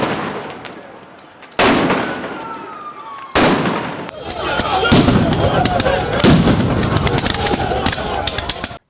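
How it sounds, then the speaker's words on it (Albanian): Fireworks and Molotov cocktails hurled at police lines during a national opposition protest outside the prime minister's office: loud sharp bangs and crackling bursts ring out in sudden blasts, over a dense roar of crowd noise and voices. "protestuesit hollën Molotov dhe fishek zjarre në drejtim të forcave të rendit"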